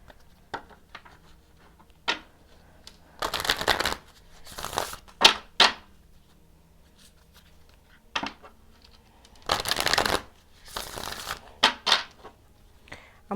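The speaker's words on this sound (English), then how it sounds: "Actually, I'm going to pull 3 cards." Tarot cards shuffled and pulled from a deck, with soft crinkling riffles and slides in short bursts separated by quiet gaps, close and fairly faint.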